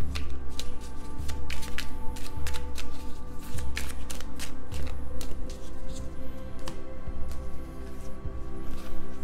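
Tarot cards are shuffled and drawn during a reading, with close, crisp riffling and slapping in repeated bursts, brisk and rhythmic throughout.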